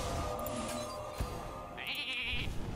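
In a Hearthstone game, a polymorph spell turns a minion into a sheep, giving a short, quiet bleat in the latter half after a faint thud and low background game sounds.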